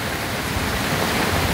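Loud, continuous rushing roar of a swollen river close to flooding, a dense and unbroken wash of water noise with no talk on top.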